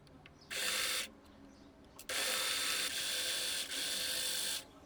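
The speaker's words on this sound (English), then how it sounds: "I will finish these edges." Dress lining fabric edges being finished on a sewing machine, with steady whirring runs of stitching in several bursts, close and fairly loud, separated by brief pauses.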